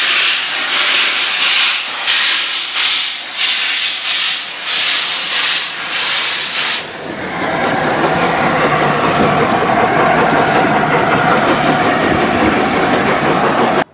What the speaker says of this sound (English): there's a steam locomotive about to head towards Bishop's Lydiard. It's an A4 Pacific 6007 Sir Nigel Gresley